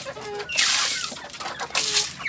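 Chickens cluck in short, close bursts over about two seconds at a backyard coop during feeding time. The calls overlap, and no one talks.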